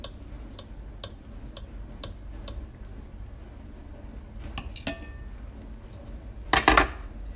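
Cooked meat is lifted out of a cocotte for pea-and-vegetable couscous, with sparse light metallic ticks and clinks of a utensil against the pot, a few louder scrapes near the end over a quiet room.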